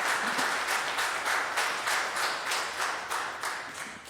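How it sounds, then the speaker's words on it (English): Audience applause during a city council hearing, steady and moderately distant, with dense clapping filling the room for several seconds and no talk over it. "We typically don't allow for applause, but that was well deserved."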